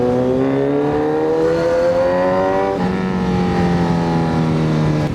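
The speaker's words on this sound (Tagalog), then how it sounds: "Kamusta nga pala yung tunog ng exhaust?" A new SC Project aftermarket motorcycle exhaust revs up loudly and close, the engine pitch rising, dropping sharply, then holding a throaty roar.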